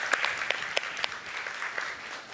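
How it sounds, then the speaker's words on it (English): Audience applause at a live talk event with music and technology entrepreneur David Frangioni, a steady wash of clapping from many hands with a few sharper claps standing out, no voices over it. "Let's give him another round of applause."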